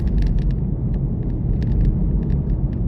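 Car passing on a road, a loud continuous low rumble of traffic close by with scattered higher clicks and rattles, no talk.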